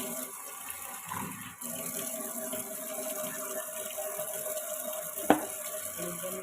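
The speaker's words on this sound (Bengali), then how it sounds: "আলুর দমে একটু জল দিলাম" Water poured into a pot of simmering aloo dum, a potato curry, makes a steady, close wash of liquid sound that runs throughout, with one sharp clink near the end.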